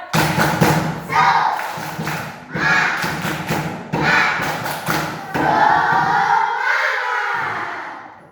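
A group of scouting students performs a rhythmic clap chant, with sharp clusters of hand claps and thumps in a repeating pattern, shouted voices joining between the beats, and a final sustained group cheer.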